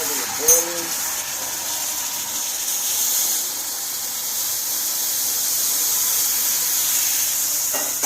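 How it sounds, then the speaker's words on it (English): A steady rushing hiss with a bubbling roar holds throughout, like liquid boiling hard up close, with a brief clink near the start. "once it starts that's just regular boiling"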